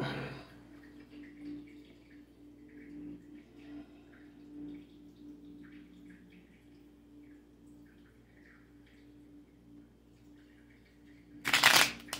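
Tarot cards are shuffled, with a quiet stretch of faint handling giving way to one sharp, loud riffle burst near the end.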